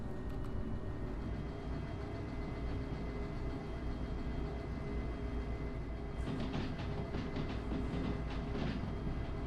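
A video game train in Derail Valley rolls steadily along the rails with a constant low rumble, and a run of rhythmic clacking and squealing from the wheels joins in toward the end.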